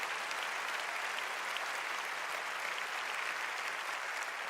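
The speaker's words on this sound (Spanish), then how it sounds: "Dale un fuerte aplauso a Jesús." A congregation applauds during a church service: a dense, steady clapping that is moderately distant and sustained throughout, with no speech over it.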